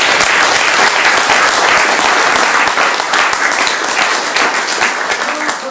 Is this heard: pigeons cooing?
no